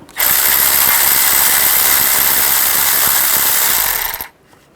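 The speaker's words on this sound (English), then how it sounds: "just take an 8mm socket, take this bolt out." A ratchet with an 8mm socket spins out a bolt holding the speed sensor during front lower control arm work on a 2010-16 Buick LaCrosse, a loud continuous buzzing clatter lasting about four seconds, close up, then stopping abruptly.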